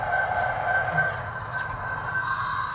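A model train locomotive on a layout gives a steady, faint hum with a soft rail-like rumble and a thin tonal whine, continuous and unbroken.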